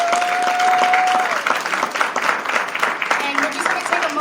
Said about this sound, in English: Let's give the cast a round of applause